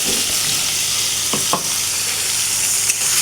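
Prawn heads and onion paste sizzle steadily in a pan, close by, while a spoon scrapes and stirs in a few distinct strokes.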